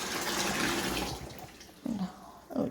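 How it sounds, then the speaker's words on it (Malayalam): Cold water is poured into a pot, a splashing gush that fades, then two short splashes follow, all fairly quiet and without talking. "നമുക്ക് കുറച്ച് പച്ചവെള്ളം കൂടെ ഒഴിച്ച് കൊടുക്കാം."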